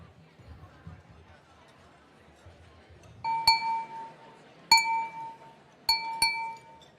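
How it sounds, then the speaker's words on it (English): A knife tapped against a glass at a lunch gathering to call for attention, sharp ringing clinks in a few quick pairs after murmuring room chatter, clear and close. "It always works, the glass and the knife."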